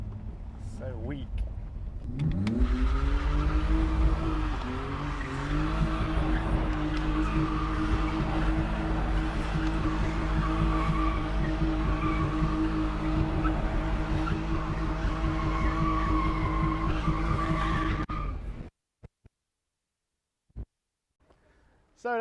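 BMW E46 drift car with a 6.0 engine circling hard, long sustained tire squeal over a droning engine, loud and continuous for about fifteen seconds before cutting off, with brief talk at the start.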